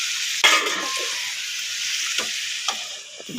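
Malabar spinach stems and fish fry in a pan, a loud close sizzle with a few sharp scraping stirs.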